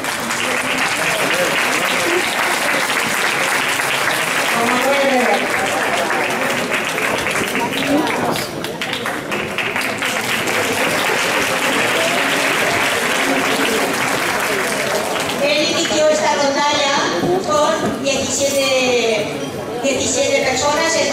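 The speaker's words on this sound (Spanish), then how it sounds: "Un aplauso para el director." A crowd at a Christmas lunch applauds the director of a rondalla, giving sustained, loud, dense clapping that carries on steadily throughout.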